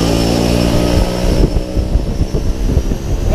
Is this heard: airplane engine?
yes